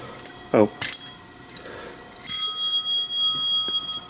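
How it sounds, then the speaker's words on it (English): An old 1940s Houghton elevator bell gives a few brief rings with quiet gaps between, then a longer, brighter metallic ringing that lingers, heard indoors at moderate volume. "it's actually an old Houghton bell from the 40s."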